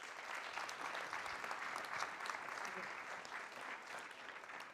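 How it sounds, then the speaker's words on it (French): An audience at a panel discussion on media and popular culture claps steadily for a guest, a dense, even patter of many hands at moderate loudness, sustained for several seconds and fading slightly at the end. "Je vous invite à applaudir Guillaume."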